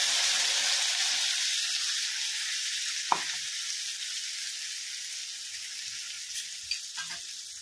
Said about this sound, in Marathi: परतून घेणार आहोत तेलावर थोडंसं